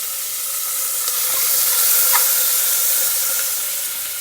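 Chopped ripe tomato sizzles in a pan with curry leaves and hing, a steady close frying hiss that swells slightly midway, with no talking.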